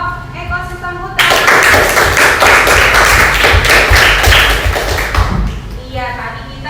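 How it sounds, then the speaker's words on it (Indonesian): Classroom applause for a student group that just presented on forest ecosystems, a burst of many hands clapping that starts abruptly, holds steady for about four seconds, then stops as voices resume. "tepuk tangan untuk kelompok ekosistem hutan"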